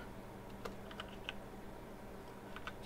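A few quick clicks on a computer keyboard as a search is typed into the start menu, light close taps in two short bursts over quiet room noise.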